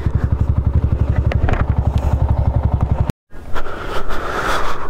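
Loud, rhythmic idling putter of a motor scooter engine close by at a resort parking spot, cutting off abruptly after about three seconds, followed by clatter and shuffling.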